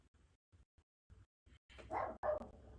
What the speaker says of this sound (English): my dog is barking and there's nothing I can do about it